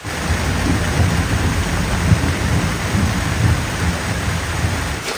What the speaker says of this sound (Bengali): আবার জোরে বৃষ্টি চলে আসছে